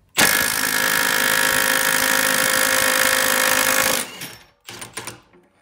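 A Milwaukee M12 Fuel 3/8-inch stubby impact wrench in auto loosening mode hammers loudly and steadily for about four seconds, then cuts off, leaving a few brief clatters.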